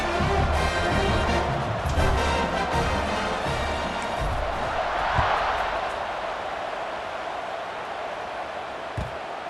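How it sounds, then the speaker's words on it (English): A stadium crowd roars steadily through a College Football 26 game, a broad, dense wash of cheering that holds fairly constant and eases slightly toward the end. "You think this crowd's going to get loud when their defense comes on the field?"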